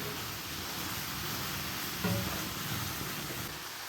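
Vegetables sizzling and being stirred in a hot pan for Chinese-style sauté, a steady hiss of frying with a brief scrape of the spoon midway, close and continuous.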